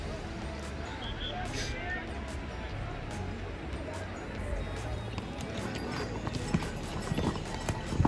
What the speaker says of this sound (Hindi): वो आप टॉप पे देखिए घोड़े वगैरह यात्री जा रहे हैं